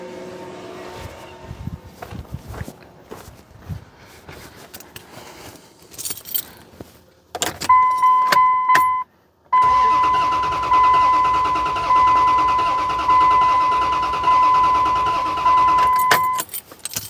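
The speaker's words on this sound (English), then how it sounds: "So I'm gonna go crank it again, see if that compression increases." Cranking of a 1998 Dodge 4x4 second-generation truck engine during a compression test, with gear oil in the cylinder: a rhythmic, pulsing starter churn that runs loud and close for several seconds, stops briefly, then resumes, with keys rattling beforehand.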